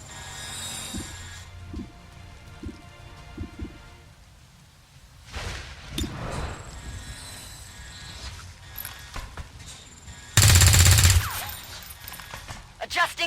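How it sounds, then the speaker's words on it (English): Heavy gunfire in the XCOM 2 War of the Chosen video game, with scattered mechanical clicks and shots building to a loud, dense burst of fire near the end, under game voices. "There's heavy fire in this zone!"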